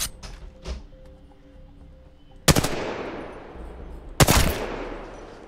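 Gunfire in Apex Legends: two sharp, loud shots about two seconds apart, each ringing out with a long echoing decay, after a few fainter pops and a low hum.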